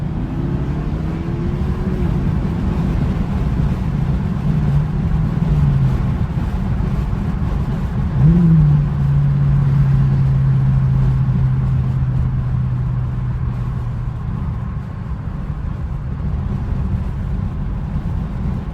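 BMW engine humming steadily while cruising with the sunroof open and windows down, a continuous low drone with road and wind noise, no talk.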